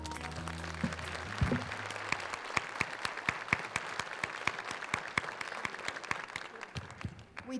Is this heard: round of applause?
yes